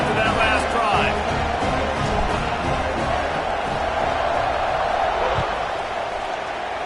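A stadium crowd in the College Football 26 video game roars and cheers in a constant broad rumble, sitting beneath a commentator's continuous play-by-play.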